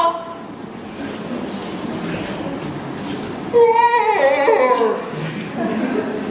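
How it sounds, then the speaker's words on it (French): A Bangkok metro train ride, with a steady rumbling hum of the moving car and then a louder stretch of whining, wavering tones as the train brakes or accelerates, with voices speaking over it. "À Bangkok, on l'appelle ça le métro."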